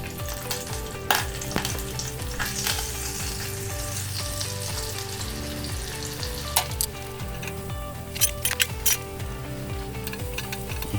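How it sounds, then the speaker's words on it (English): Lamb browning in hot oil in a small Dutch oven, a loud, steady sizzle running throughout, broken by a few sharp clinks and scrapes as pieces are moved. "the oil's up to temperature, so I'm just going to brown this lamb off"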